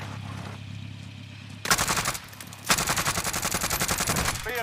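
Rapid automatic gunfire in the video game Call of Duty Warzone, a short burst followed by a longer sustained volley of loud, evenly spaced shots.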